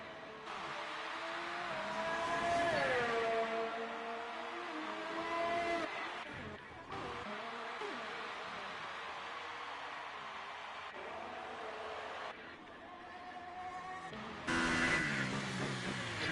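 A Formula 1 race car engine revs in the F1 2018 video game at the Abu Dhabi circuit, a sustained whining drone that climbs and drops with gear shifts and cuts between cars, with no talk.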